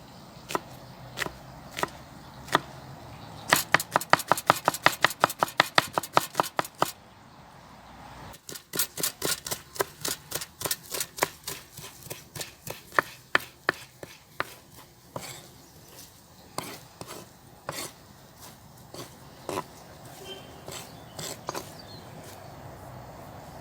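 Onions are chopped on a board for an onion garnish served with grilled liver. Sharp knife strikes come close by, in quick rhythmic bursts with short pauses between them, and no voices can be heard.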